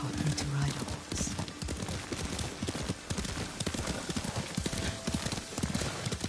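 Horse hooves gallop in the Ghost of Tsushima video game, a rapid steady clip-clop rhythm close and loud throughout, with game speech and ambient sound layered over it.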